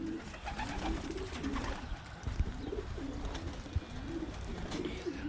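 Young pigeons coo steadily in a loft, a soft repeated throaty warble layered from several birds close by, with brief shuffling and a couple of sharp knocks.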